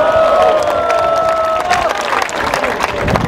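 A crowd claps and cheers loudly, a dense patter of applause with a sustained tone fading in the background.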